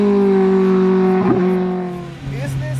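A heavily customized, tuned Lotus sports car with a dual-stage setup, its engine droning loud and close while driving, then the revs sag and the pitch drops before picking up again.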